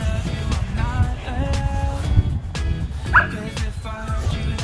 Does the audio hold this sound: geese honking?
no